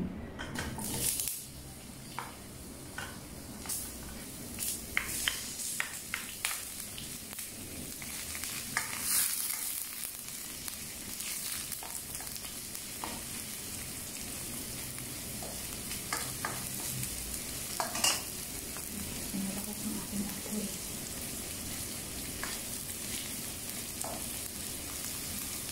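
Onion fries in a pan for Filipino ginisang pechay with a steady close sizzle, broken by repeated scraping and clinking of a spatula stirring against the pan.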